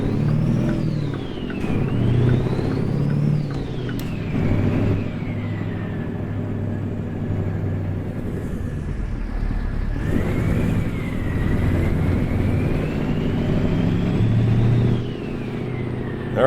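A truck in American Truck Simulator pulls away from a start in second gear, its engine rumbling and revving up through rising and falling pitch sweeps, loud and close, with a brief pause between pulls.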